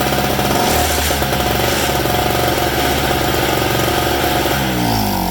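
A Harbor Freight generator's small engine runs loudly and close by, a dense, rapid, rattling mechanical chug that holds steady throughout with no voices.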